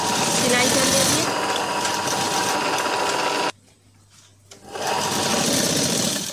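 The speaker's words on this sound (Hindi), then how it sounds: "टाइट पकड़ते हुए हमें सिलाई करना है" A sewing machine stitches a piping strip onto a blouse. It runs with a loud, close mechanical whir and rattle, falls quiet for about a second partway through, then starts again.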